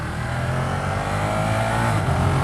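A 2015 Ducati Monster 1200 motorcycle engine pulls under acceleration during a test ride, a dense steady roar with rising intensity near the end, heard close amid wind noise and without talk.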